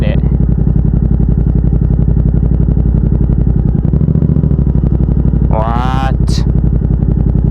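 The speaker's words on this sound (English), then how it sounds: "You want a little rev, guys?" A Yamaha MT-07 motorcycle engine runs loud and close in a steady throbbing drone that holds throughout, with a brief voice-like call near the end.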